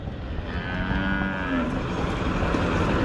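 A large cow at a cattle market moos in a long, low, loud call, close by over steady outdoor background noise.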